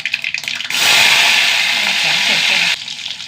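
Mustard seeds and garlic cloves hit hot oil and break into a loud, steady sizzle that holds for about two seconds before dropping away, with faint kitchen clatter around it.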